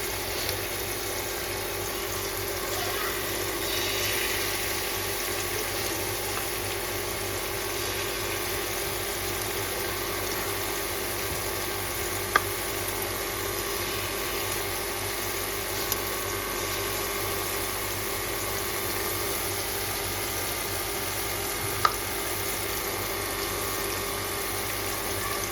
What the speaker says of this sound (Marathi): कोलंबीची फ्राय करून घ्यायची आपल्याला.